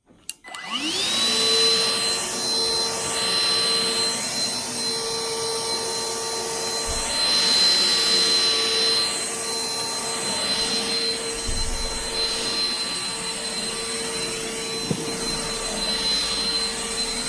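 A compact G Tech cordless battery-powered vacuum cleaner switches on and runs steadily with a loud, high motor whine and airy rush, its pitch wavering slightly as it moves, close up with no talking.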